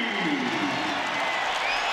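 A basketball arena crowd in Omaha roars and cheers after a three-pointer in a Creighton Bluejays versus Chicago State Cougars game, a dense, sustained wash of voices filling the space with no pause.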